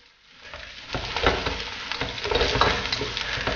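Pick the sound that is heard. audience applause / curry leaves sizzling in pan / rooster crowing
curry leaves sizzling in pan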